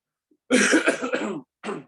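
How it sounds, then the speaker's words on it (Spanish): A sick man giving a religious lecture coughs hard several times in a close, loud burst, then lets out one more short cough after a brief pause. "Disculpen la tos, como les dije, estoy bastante enfermo."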